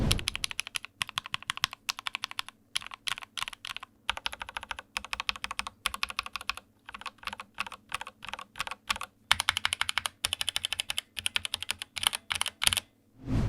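Fast, crisp keystrokes on a custom Akko 3061S 60% keyboard with Gateron Red switches come in quick close-up bursts with short pauses, occasionally punctuated by a heavier key press.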